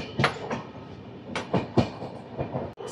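Double Decker Uday Express train on the Visakhapatnam–Guntur route running over rails, with a series of rhythmic clickety-clack wheel thumps over joints against a constant rolling rumble, close and loud.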